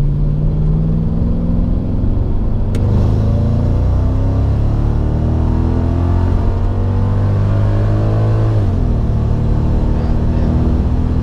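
A car with a supercharged M113K engine pulls from 40 mph in second gear, its loud steady drone rising in pitch and dipping briefly at a shift near the end, heard from inside with no talk.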